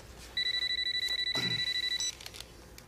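A telephone rings, a rapid electronic trilling bell in one sustained burst of about a second and a half, fairly clear over a quiet indoor room.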